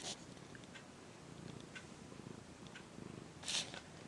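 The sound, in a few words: cat purring while being held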